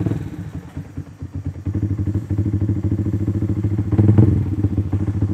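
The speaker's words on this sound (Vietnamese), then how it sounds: "bây giờ các bạn cùng nghe tiếng bô của xe 62 nha" A Yamaha Exciter motorcycle styled after the Ducati V4 idles and revs close up, its exhaust giving a loud, steady, throbbing rumble that swells into a stronger rev near the end.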